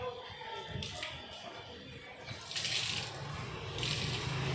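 Water splashing and swishing as an 800 GSM towel is dipped and rinsed for washing a car, with bursts of sloshing that grow louder near the end.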